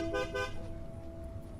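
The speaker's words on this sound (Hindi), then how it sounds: "कब से हॉर्न बजा रहा हूँ" A car horn gives two quick toots, then holds a steady tone that trails off. It sounds fairly distant and muted against low road rumble.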